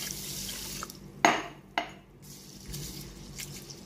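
Millet and moong dal are washed in water in a kitchen vessel, with sloshing water, a couple of sharp splashes and light clinks of the container, close up.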